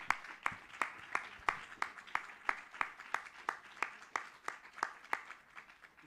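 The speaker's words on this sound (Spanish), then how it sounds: "Pido un fuerte aplauso para él." Audience at a talk clapping for the speaker, a modest, sparse applause with individual claps sounding in a fairly regular rhythm, like a small group, moderately distant and steady for several seconds.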